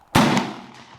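A single sharp gunshot from a CZ457 rimfire rifle during a precision chronograph test rings out close and loud, then decays quickly.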